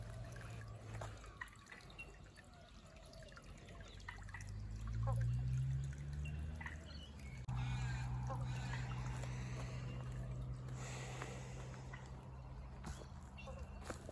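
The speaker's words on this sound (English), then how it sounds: "the start of the stream with my DIY high flow filter" Water trickles steadily down a garden pond stream fed by a DIY high-flow filter, with a continuous soft flow and scattered drips at low level. A low rumble rises and falls underneath.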